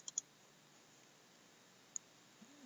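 A computer mouse clicked while loading Mach3 CNC software: a quick double click, then a single click a moment later, sharp and faint in a quiet room.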